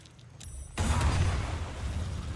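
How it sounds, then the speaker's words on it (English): The Booming Blade spell attack in a fantasy role-playing video game lands as a sudden loud crashing burst, followed by a sustained rumbling blast of effect noise. "Booming blade."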